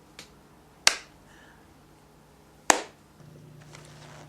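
Two loud, sharp single hand claps a couple of seconds apart, imitating one person's signature clap, each with a brief ringing tail and low background hum between.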